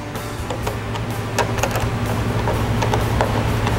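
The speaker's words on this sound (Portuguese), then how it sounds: "é só distribuir o aperto nas conchas" Clamp bolts on a bicycle rack fitted to a 2009 Honda New Fit are tightened in a rapid run of small metallic clicks and ratcheting ticks over a low steady hum, close and fairly loud, with no talking.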